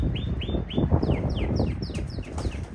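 Canaries in a cage, alongside red-tinted birds, singing close by in rapid repeated sweeping whistles and trills over a busy, rumbling background.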